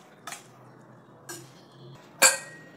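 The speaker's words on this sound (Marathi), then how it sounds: "पाणी टाकल्यावर हलवून घ्यायची ती." Ivy gourd (tondli) pieces stirred in a pan after a splash of water, with three sharp metal clinks of the spoon against the pan, spaced apart, over a quiet background.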